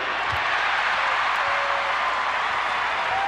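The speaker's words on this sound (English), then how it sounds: "The crowd chanting defense." Steady, loud roar of a basketball arena crowd at an NBA game between the Toronto Raptors and Milwaukee Bucks, a dense continuous wash of voices with no distinct breaks.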